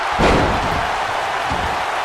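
A wrestler's powerbomb in WWE 2K19 lands as one heavy, booming slam early on, followed by duller thuds over steady arena crowd noise in a tag team match.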